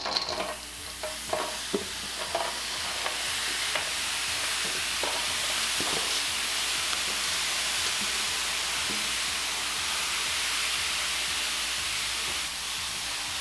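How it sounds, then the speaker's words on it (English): Root vegetable hash browns sizzle steadily on a dry griddle with no oil, a dense continuous frying hiss with a few scraping stir taps near the start. "So then we're just going to put all these on the griddle."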